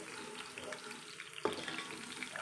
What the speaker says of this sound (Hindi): तो इनको हम फ्राई कर लेते हैं